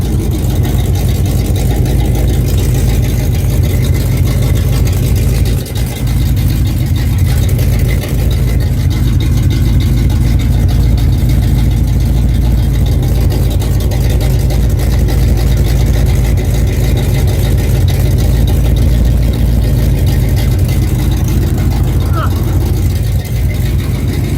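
A 1986 Chevrolet C10 truck engine runs with no exhaust fitted, giving a loud, constant low rumble that holds steady throughout with only slight variation as someone talks over it.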